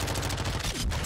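Submachine gun fire in the video game Modern Warfare 2, a rapid, loud burst of close shots crackling in quick succession for just over a second.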